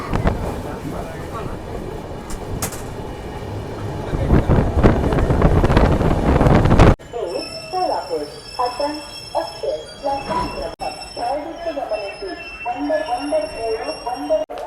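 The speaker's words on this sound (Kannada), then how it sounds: "ಸೊಲ್ಲಾಪುರ ಹಾಸನ ಎಕ್ಸ್ಪ್ರೆಸ್ ಈಗ ಎಂಟ್ರ್ ಆಗೈತೆ ರೀ ವಾಡಿ ಜಂಕ್ಷನ್ಗೆ" Solapur–Hassan Express pulling into Wadi Junction, a steady loud rumble building for several seconds before a quieter stretch of station ambience with voices and clatter; talk is present.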